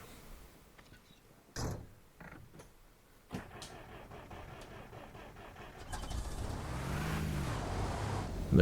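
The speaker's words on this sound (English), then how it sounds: "and then we can drive the truck" A military truck in the game Arma Reforger: doors clunk and creak, then the engine starts and settles into a steady rising rumble that grows louder toward the end.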